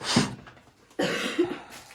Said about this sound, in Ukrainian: бо ми, ми поболіли, кашляємо обидві